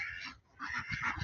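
Ducks near water quacking in a short, faint burst of several rough calls close together.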